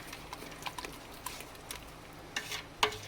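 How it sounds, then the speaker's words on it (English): A spoon stirs sugar into a pot of strawberry rhubarb jam, giving soft intermittent scraping and clinks over a faint sizzle, with a sharper knock near the end. "and just stir it around"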